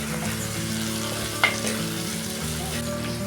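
Onions and tomatoes fry in hot oil for a South Indian fish curry, a close, even, continuous sizzle with one brief metallic clink partway through and no voices.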